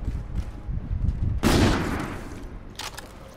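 Sniper rifle fire in Call of Duty: Infinite Warfare multiplayer, one loud close gunshot burst with a long decaying boom, a fainter shot following, over steady game background noise.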